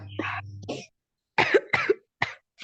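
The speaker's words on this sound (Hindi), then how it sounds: "कौन ऐसे बुजुर्गों की तरह खांसी कर रहा सर है?" Harsh, throaty coughing in a few separate bursts, elderly-sounding, heard close during an online vector math class, with short gaps of silence between fits and a voice briefly at the start.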